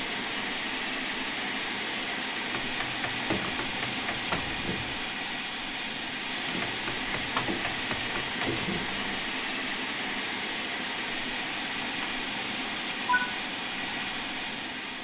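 Steady, close hiss of air or steam as the wagon brakes release behind an LMS Fowler Class 4F steam locomotive on the Peak Forest Railway, running continuously under faint clanks, with no voices.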